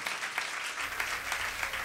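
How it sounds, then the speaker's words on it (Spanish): Audience applause at a live tango-venue rock concert, a short burst of dense clapping at moderate distance, steady and fairly faint, with no speech. "quiero pedir un fuerte aplauso para él"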